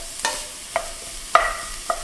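Tomato and vegetables cook on low heat in a pan for a beef and cabbage stew, with a soft, faint background sizzle and four sparse, distinct clinks and scrapes of a utensil against the pan.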